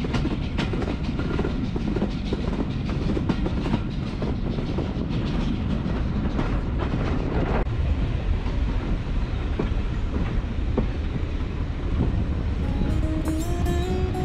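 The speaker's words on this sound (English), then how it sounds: "first we had the pleasure of seeing Thomas arrive to pull us to Yarwell" Thomas the Tank Engine steam train on the Nene Valley Railway, heard as a loud, continuous rumble of rolling rail carriages with rhythmic clickety-clack and wind buffeting, close and steady throughout with no talk.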